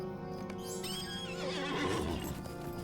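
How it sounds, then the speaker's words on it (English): A swift horse in the online game The Lord of the Rings Online (LOTRO) whinnies loudly and close, its neigh rising and fluttering over steady background game ambience, with faint hoof clip-clop mixed in. "swift horse"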